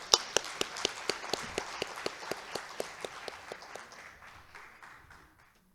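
A conference audience at the opening ceremony of a Korean electrical engineering society's summer meeting claps to welcome a speaker, with crisp, evenly spaced claps that start sharp and gradually fade away.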